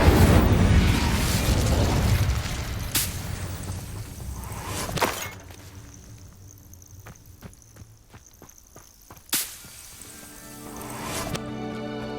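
A Confringo spell explosion in the video game Hogwarts Legacy, with loud blasts and bursts early on, then sharp cracks and pops, a sudden burst near the end, and scattered impacts in between.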